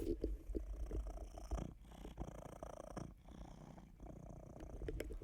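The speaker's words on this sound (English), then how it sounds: "I don't know if you can actually hear him purring because he's pretty loud." A cat purring steadily and closely, a continuous low rumble with rhythmic breathing cycles, quiet overall with no talking.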